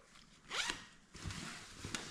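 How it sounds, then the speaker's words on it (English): A clothing zipper is drawn closed on a bag holding a stuffed poncho: a quick, bright rasping pull, a short pause, then a longer, rougher run of zipping. Quiet and close, with no talking. "Zip it up."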